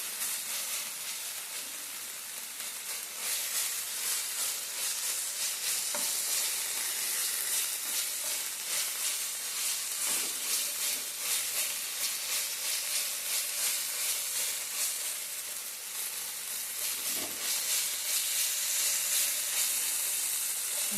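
Mutton masala sizzles steadily in a hot pan, a loud continuous hiss broken now and then by soft scrapes of stirring, with no voices throughout.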